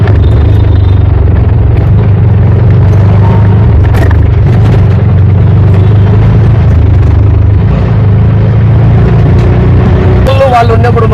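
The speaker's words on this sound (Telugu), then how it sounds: "ఆటో రౌండ్ చేస్తాను." An auto rickshaw engine runs continuously as it drives around town during a plastic-ban awareness event, a loud steady low rumble throughout with traffic clatter and a brief rattle near the end.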